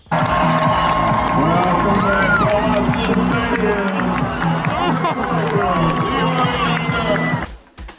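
A stadium crowd at an Oregon Ducks football game at Autzen roars and cheers in a loud, continuous wave, with shouts and whistles rising over the mass of voices before it cuts off.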